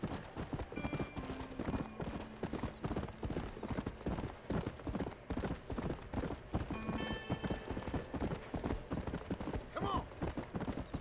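Hooves pound in a fast, regular gallop in Red Dead Redemption, loud and close, with horse snorts and a whinny breaking through and bits of game sound between the beats.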